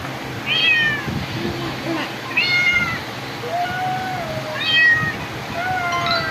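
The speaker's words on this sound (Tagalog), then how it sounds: "Oh, the sounds of cat." A cat meows about four times, clear rising and falling cries at a steady pace, with a voice talking underneath.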